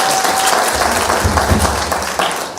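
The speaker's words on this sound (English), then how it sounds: "Give a round of applause, please." A keynote audience bursts into loud, sustained applause, dense clapping filling the room for the whole stretch with a faint murmur of voices underneath.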